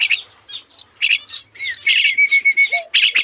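Young maya sparrow chicks cheep loudly nearby in short bright bursts, spaced at first and then running together into a dense, unbroken stretch of high chirping.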